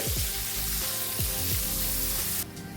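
Green chillies, curry leaves and chopped onions frying in hot oil, a steady close sizzle with occasional low knocks and clatters of the pan, and the frying hiss cutting sharply near the end.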